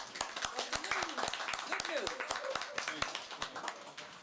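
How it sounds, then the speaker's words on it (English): People at a Kwanzaa celebration clap for a man who has just spoken, sharp, fairly regular hand claps close by that continue for several seconds while someone talks over them. "Give a round of applause for the brother"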